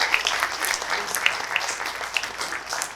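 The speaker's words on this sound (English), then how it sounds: "please applaud for Katerina" An audience at a film conference Q&A claps steadily for a moderator being introduced, a dense patter of hands with a few sharper claps standing out, lasting a few seconds.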